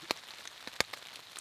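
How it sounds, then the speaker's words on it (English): Steady rain patters on a lakeside campsite in the Kawartha Highlands during a spring ice-out canoe trip, with scattered sharper drops hitting nearby surfaces over a soft continuous hiss. "it didn't even say it was supposed to rain today"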